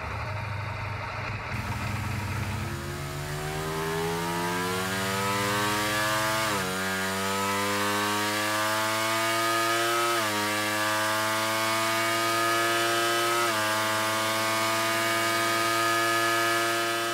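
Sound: Ducati V4 motorcycle engine revving

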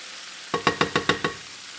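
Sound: garlic and green onions frying in oil

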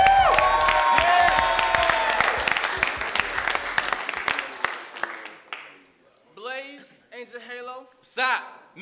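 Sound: crowd cheering and applauding

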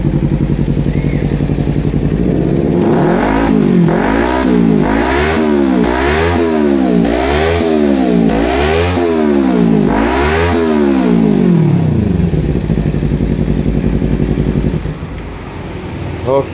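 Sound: Kawasaki Ninja FI 2014 motorcycle revving with racing exhaust

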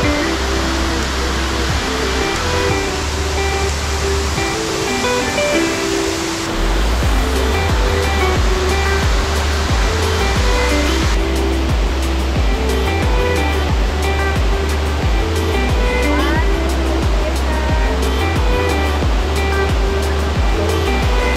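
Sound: Kurakaunui Falls waterfall

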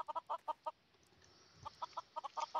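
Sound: many chickens clucking in Minecraft video game

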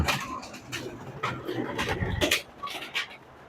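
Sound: doves cooing on a rooftop garden

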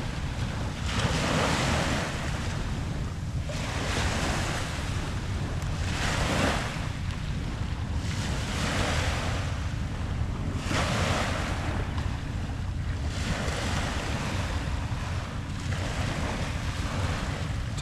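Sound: waves lapping on Long Island Sound shore

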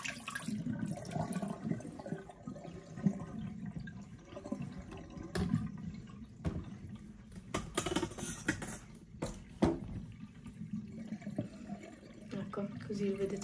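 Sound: water draining from portable mini washing machine hose

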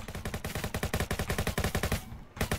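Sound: gunshot in Roblox Jailbreak video game

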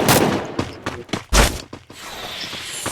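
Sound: gunfire in a shooter video game

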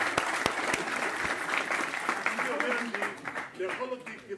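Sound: audience applause

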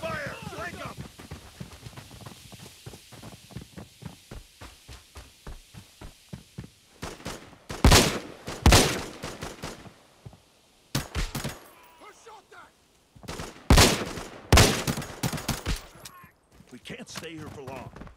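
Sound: gunfire during an ambush firefight in the video game Arena Breakout

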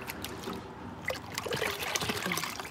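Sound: water being dumped out of a bucket

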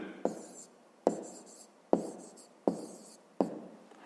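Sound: writing the answer in a notebook

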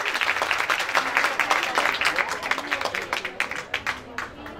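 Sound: audience applause

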